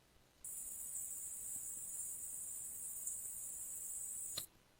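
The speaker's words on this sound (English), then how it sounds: "Where a lot of the crickets are" Crickets chirping at night make a thin, high, continuous trill that stays level for about four seconds and then cuts off abruptly, with only a faint background hiss around it.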